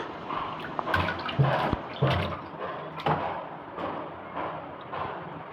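A child splashes water in a kitchen sink at home, making irregular close splashes and slaps of water with a few sharper bursts throughout.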